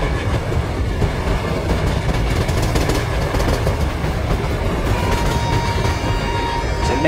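A Rajdhani Express passenger train running along rails near Ennore Junction, with a continuous loud rumble and rhythmic clickety-clack of wheels over rail joints, steady throughout.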